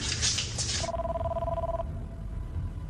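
A telephone rings unanswered inside a store during an armed standoff, its only line at the front; one ringing burst sounds over a dense background rumble, then fades.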